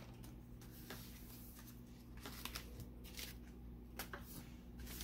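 Scissors snipping around the edges of a Christmas card, soft close crisp cuts and paper rustles in an irregular rhythm against a low steady hum.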